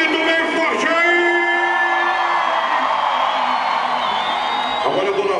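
A church congregation shouts and cheers loudly together, a dense crowd roar with whoops and yells that holds steady for several seconds, with a few sustained voices rising above it.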